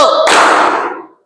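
One loud, crisp hand clap from a class of children, following a short spoken cue and decaying quickly into silence.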